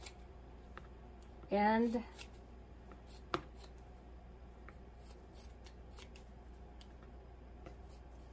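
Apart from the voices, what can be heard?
scissors cutting excess fabric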